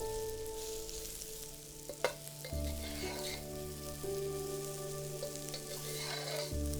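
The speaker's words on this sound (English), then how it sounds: "First, our porcini mushrooms. Stir to coat." Porcini mushrooms sizzle and crackle in a hot pan while being stirred, a soft steady frying hiss with occasional utensil knocks, fairly quiet and close.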